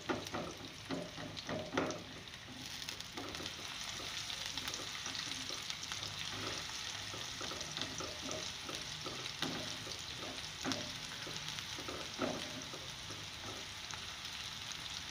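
Finely chopped onions fry in oil in a pan toward golden brown for a mash dal dish, giving a steady close sizzle broken by repeated spatula scrapes and stirring clicks, with no voices.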